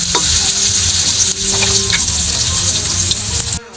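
Onions frying loudly in a pan while being stirred, a dense continuous sizzle with scraping utensil strokes close up, cutting off abruptly near the end.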